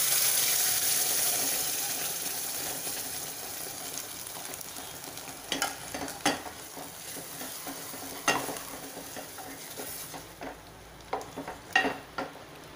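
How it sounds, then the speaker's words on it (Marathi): Cooked dal being added to a pot tempered with cumin powder for Maharashtrian varan bhat, a steady sizzle fading gradually while sharp stirring scrapes and clinks sound at intervals toward the end. "आता आपण ही शिजवलेली डाळ घालून घेऊया"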